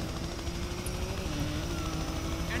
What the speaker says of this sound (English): Hurry up, Ty, that chopper's gonna take you down.